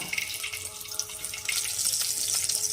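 Two whole bay leaves sizzle in hot oil in a pan, making a steady, hissing crackle with small pops throughout, close and moderately loud.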